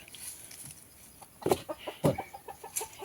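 Domestic chickens on a rural homestead cluck in a few short, close bursts, a handful of clucks scattered over quiet background.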